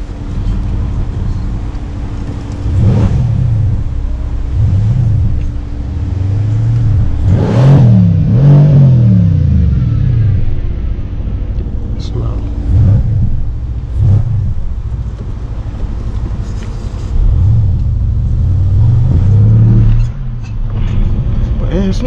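A Mercedes-AMG C63 S Edition 1 rumbles low while driving through London streets, its engine swelling in several deep revving bursts between quieter stretches, with voices talking in the cabin.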